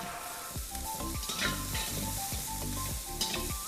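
Ginger garlic paste hits frying onions, bursting into a close, steady sizzle and crackle while a utensil stirs in regular strokes.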